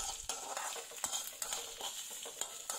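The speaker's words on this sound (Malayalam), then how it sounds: "അപ്പോൾ ഇതുപോലെ മെല്ലെ ഒന്ന് ഇളക്കി കൊടുക്കാം" Green chillies, garlic and ginger sautéing in a pan for lemon pickle, stirred gently: a quiet sizzle under repeated light clinks and scrapes of a spoon against the metal.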